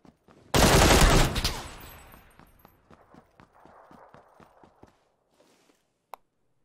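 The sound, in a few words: gunshot from video game PUBG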